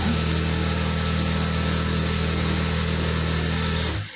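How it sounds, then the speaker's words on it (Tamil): A sewing machine stitches a blouse seam with a steady, continuous motor whir and hum, close and even, stopping abruptly near the end. "அவ்வளோதான், அமுக்கு தையல் போட்டாச்சு."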